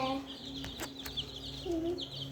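Chickens clucking and calling in short bursts close by, with steady low background hum throughout.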